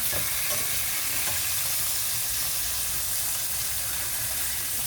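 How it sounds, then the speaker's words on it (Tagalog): Pork chops frying in a pan, a steady dense sizzle and crackle of hot oil running evenly throughout at moderate level, with no talk. "Ito na po uli ang aking pritong pork chop."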